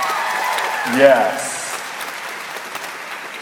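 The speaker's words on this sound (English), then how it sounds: "Can I get a round of applause for that?" A brief, faint patter of audience applause spreads out behind a single short spoken word, fading away over a few seconds.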